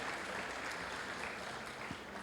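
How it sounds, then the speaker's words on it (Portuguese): Steady applause from a church congregation honoring members who persevered, a dense even wash of clapping throughout with no speech over it. "Uma salva de palmas por esses guerreiros que ficaram aqui esses dias"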